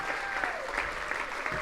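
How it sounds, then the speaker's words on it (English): Audience applause at a TEDx-style conference talk, a steady dense wash of clapping that fills the whole moment at moderate level, with a few voices faintly mixed in. "Big round of applause again."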